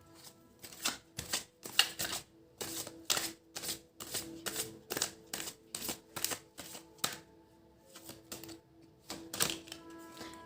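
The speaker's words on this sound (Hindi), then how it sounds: "इसे हम लेंगे नहीं, दोबारा शफल करते हैं।" Tarot cards shuffled by hand in a string of crisp, rapid riffling snaps, arriving in short bursts with brief pauses between, close and fairly quiet.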